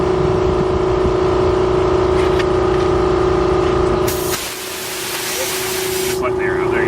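Air pump running at a gas station to fill empty tires, a steady mechanical hum with a sharp hiss of air bursting in partway through, under background noise and occasional voices.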